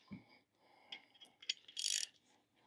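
An Icon ratchet with a T20 Torx bit loosens a fuel filter bracket on a Land Rover 3.0 TDV6 diesel, giving faint, close clicks and a short burst of rapid ratcheting, ending in a sharp metallic tap.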